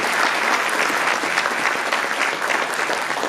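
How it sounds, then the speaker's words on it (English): An audience at a youth event gives a sustained round of enthusiastic clapping, dense and loud from start to finish with no pauses. "a round of applause again for these cool kids"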